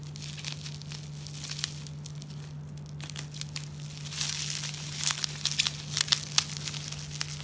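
A bubble-wrapped product package being cut open, close crinkling and crumpling of plastic with tearing and crunching bursts growing busier toward the end, under a steady low hum.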